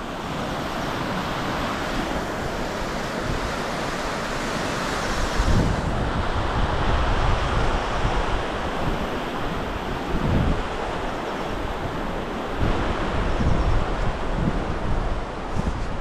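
Water rushes with force through green monsoon farmland in the hills of Lanja, Ratnagiri. It makes a loud, continuous broadband roar that swells slightly at moments and has no speech over it.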